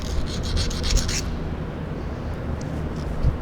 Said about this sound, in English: I'm just going to take a piece of emery cloth like this